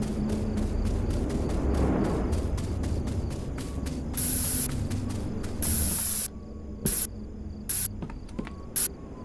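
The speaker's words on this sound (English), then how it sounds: "I have been spraying it in enclosed spaces" Bear mace spray in a video game hisses in two loud blasts of about a second each, then several short sharp spurts, over a steady chirping insect ambience of a forest lookout.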